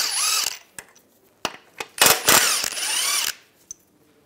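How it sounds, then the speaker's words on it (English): A ratchet with a 16mm socket works bolts loose from a Volkswagen Beetle front lower control arm, giving short bursts of rapid clicking and whirring separated by sharp metallic clinks and brief quiet gaps. "Using a 16mm socket, take these out."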